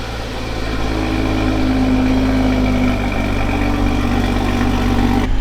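A Toyota A91 Supra engine idles steadily while warming up, a close, loud, even hum with a low drone and a faint tonal whine, no revving and no talk.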